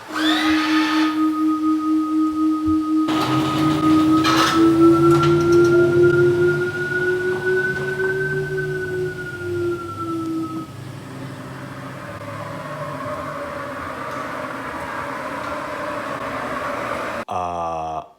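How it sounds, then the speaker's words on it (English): A gliding electronic hum from a slow-moving 2020 Tesla Model 3 Performance's low-speed pedestrian warning sound rises gently in pitch, then fades into quieter low whirring. "by law, these electric cars have to make a sound now"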